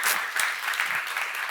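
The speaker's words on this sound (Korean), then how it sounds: "박수를 하세요." A church congregation at a seminar gives a short burst of applause, dense and even clapping that fills the room for about a second and a half.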